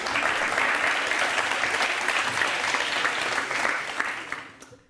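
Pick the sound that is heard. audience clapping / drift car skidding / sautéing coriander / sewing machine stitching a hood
audience clapping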